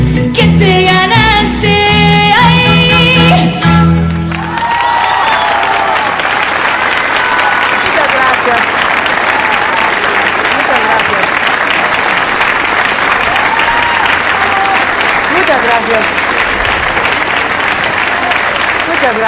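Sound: audience applause for mariachi band

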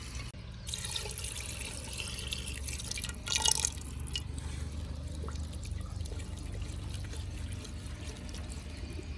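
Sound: water poured into cooking pot

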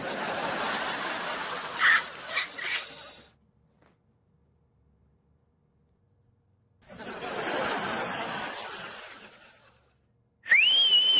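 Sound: person whistling

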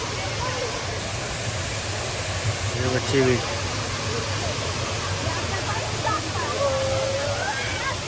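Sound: waterfall at Expo 2020

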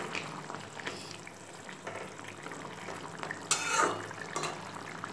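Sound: fish cooking in a pan, being stirred gently

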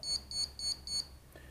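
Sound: ESC calibration beeps

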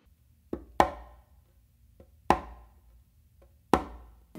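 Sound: conga ghost note tap followed by close slap

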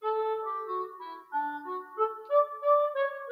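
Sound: sampled orchestral clarinet played on a keyboard

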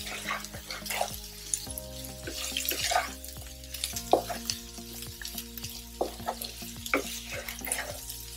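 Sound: spiny gourd frying and being stirred on low flame

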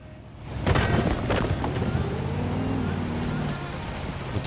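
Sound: car engine running, from a video game

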